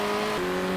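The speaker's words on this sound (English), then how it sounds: "It's too aggressive on the throttle there. Really shredded the rears." A race car engine in the Circuit Superstars racing game strains under heavy throttle with the rear tyres losing grip, a loud continuous whine that stays steady from start to finish.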